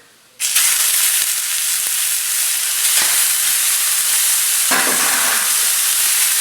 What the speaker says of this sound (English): we're going to grill these on both sides until there's a crust forming